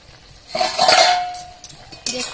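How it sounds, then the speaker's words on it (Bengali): A metal lid is lifted off a cooking pot of water lily stems, giving a bright ringing clink that fades, followed by a second lighter metallic tap. "এবার ঢাকনাটা খুলে দেখব নালটা কেমন হয়েছে।"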